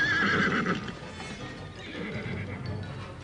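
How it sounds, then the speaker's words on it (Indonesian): Several horses neigh and whinny with hooves clip-clopping as mounted soldiers surround a house, a loud high whinny at the start fading into steady trampling and snorting. "Kuda-kuda banyak sekali mengepung rumahku."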